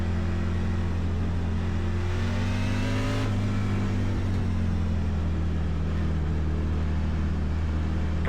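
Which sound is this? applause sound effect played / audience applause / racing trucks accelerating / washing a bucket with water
racing trucks accelerating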